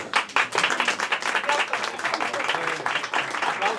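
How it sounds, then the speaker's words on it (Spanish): An audience at the unveiling of an event poster applauds in a dense, lively burst of clapping that holds steady throughout, with some voices audible beneath it. "Aplauso."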